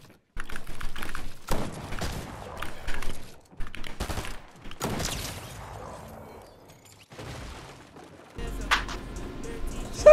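Bursts of rapid gunfire in a Fortnite match, sharp close shots in uneven clusters separated by quiet gaps, mixed with keyboard clatter.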